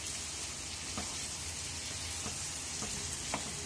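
Tomatoes frying in a mutton karahi give a steady, low sizzle and crackle throughout, with a few soft scrapes as they are stirred now and then; no voices.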